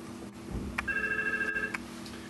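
An incoming VoIP PBX call sets a telephone ringing with one bright, electronic warbling ring burst lasting about a second over a faint, steady background hum.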